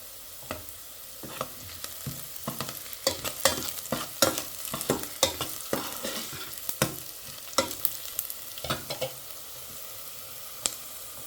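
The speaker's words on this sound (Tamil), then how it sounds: "பெருஞ்சீரகம் கொஞ்சம் போடுவோம்." Fennel seeds tossed into a hot frying pan and stirred, with a steady sizzle broken by repeated sharp scraping clicks of the spoon against the pan, close and fairly loud with no talking, in Jaffna-style mutton curry cooking.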